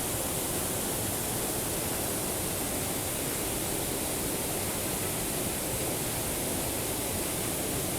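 A Tennessee waterfall roars as a dense, unbroken wash of rushing water, loud and close, holding steady without any voices or other sounds.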